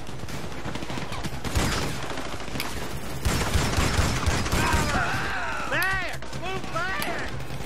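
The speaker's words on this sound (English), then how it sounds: "I got more ammo for my combat MG" Rapid combat MG machine gun fire in GTA V Online, long rattling bursts with louder volleys midway, then swooping whistle-like effects near the end, with people talking over the shooting.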